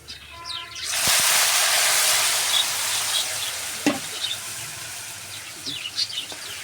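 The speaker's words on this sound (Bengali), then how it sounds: "কটা শাক গেলে ঢেলে দিব" Wet leafy greens, still dripping with water, hit a hot pan of fried onion and garlic: a sudden loud sizzle erupts after a quiet second, then a steady crackling hiss with stirring knocks and faint birdsong behind.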